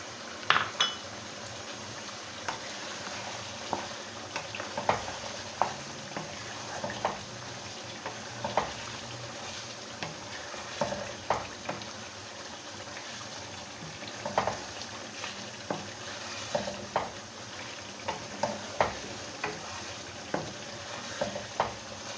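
Mutton karahi cooks in a pan with green chillies, crushed coriander and garam masala, giving a low steady sizzle on a gentle flame, broken by repeated metal clinks and scrapes as a spoon stirs the meat against the pan.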